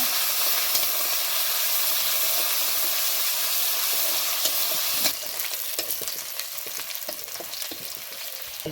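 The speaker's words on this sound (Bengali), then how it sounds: "পেঁয়াজ কুচি, রসুন কুচি দিয়ে দেবো। ভালোভাবে ভেজে নেব।" Chopped onion and garlic sizzle steadily in hot oil in a pan, a loud continuous hiss joined halfway through by scraping stirring strokes.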